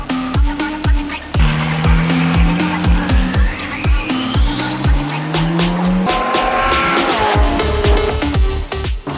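A race car driven hard around a track, its engine loud and close, rising and falling through repeated gear changes while the tires squeal and skid through the corners.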